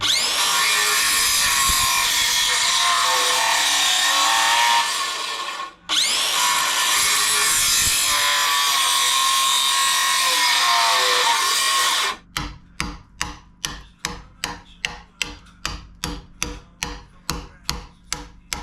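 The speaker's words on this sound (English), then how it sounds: "Now I'm ready to make the notches on these two, which are gonna go on each side." A chainsaw cuts notches into log beams for a woodshed roof ridge, a loud continuous whine with a brief dip, then a rapid series of short bursts as the cut is worked in pulses.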